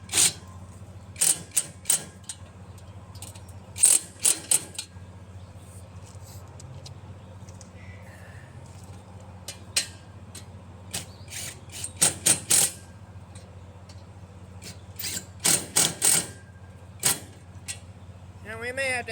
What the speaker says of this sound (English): Let me tighten these down.